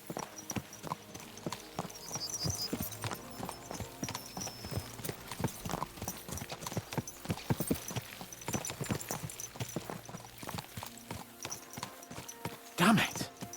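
Horses ride along in Kingdom Come Deliverance II, their hooves beating a rapid, continuous clip-clop close by, with voices talking over the rhythmic hoofbeats.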